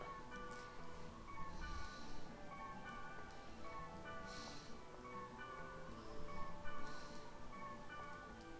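A small real cat meows a few times during a gaming livestream, its faint, short calls rising intermittently over a constant bed of game music.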